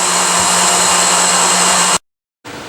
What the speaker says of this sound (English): building up the speed a little bit, and the centrifugal force spins the honey out